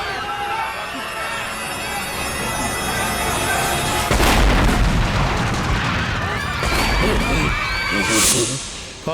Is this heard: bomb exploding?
yes